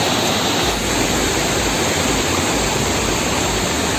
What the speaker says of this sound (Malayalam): നമ്മൾ വെള്ളച്ചാട്ടത്തിൻ്റെ അടുത്തെത്തിയിട്ടുണ്ട്.